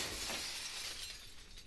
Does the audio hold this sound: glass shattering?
yes